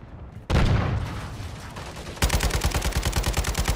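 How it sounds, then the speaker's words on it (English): Gunfire in a Call of Duty: Modern Warfare 3 Ground War match: one loud, close blast that rings out, then a steady, rapid string of hard shots pounding along without pause. "Hear him sniping."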